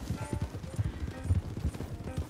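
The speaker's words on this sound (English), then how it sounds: "Two horses with saddles, nobody on them, and then two people." Horse hooves clip-clopping at an even walking rhythm in the video game Red Dead Online, a close run of soft low thuds with no speech over them.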